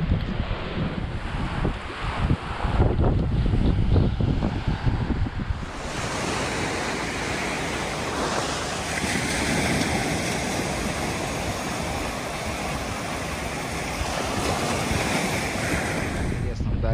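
Steady wind rushing over a microphone with rolling surf underneath, loud and continuous, with gusty buffeting early on.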